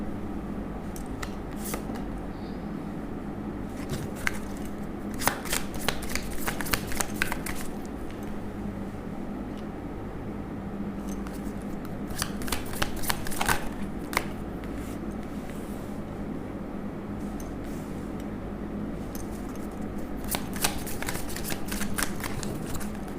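Tarot cards are shuffled by hand in a quiet room, the soft riffling and flapping coming in several clustered bursts with pauses between, close and fairly faint.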